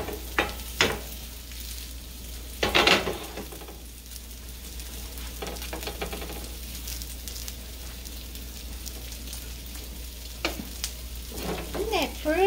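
Small cakes sizzle steadily in a hot pan, a dense frying hiss broken by a few louder crackles and scraping bursts, close and fairly loud.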